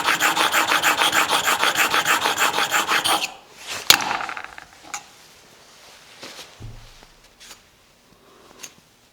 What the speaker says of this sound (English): what I'm going to do is just lap the back just a little bit, just to remove any wire burr that may have formed on the underside of that